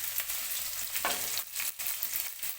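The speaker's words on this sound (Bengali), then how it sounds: "তাহলে আমি এতে গাজর আলু ফুলকপি কাঁচা লঙ্কা দিয়েছি দিয়ে আমি একটু নাড়বো" Carrot, potato, cauliflower and green chilli are stirred into a hot mustard seed and curry leaf tempering, sizzling close by with a few sharp spoon scrapes and bursts of crackle over a soft hiss.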